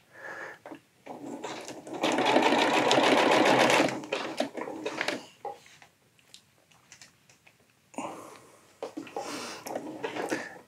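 A sewing machine stitches camo tarp fabric in a loud steady burst, then stops and restarts in shorter runs with small clicks between stitches.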